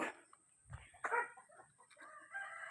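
Backyard chickens cluck in short, scattered bursts near a young flock's new pen, with a brief rooster-like call in the middle and a steady high insect whine running throughout.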